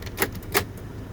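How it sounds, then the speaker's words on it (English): Two quick, sharp clunks from the power door locks of a 2000 Toyota Tundra pickup, close and clear over a quiet background. "Door locks work."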